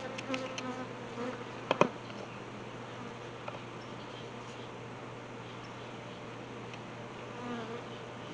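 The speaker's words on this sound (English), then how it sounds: "maybe I should leave that open so that more bees can get in there" Honeybees buzz around an open beehive during smoker work, a steady insect drone that persists throughout, with a few brief sharp knocks near the start.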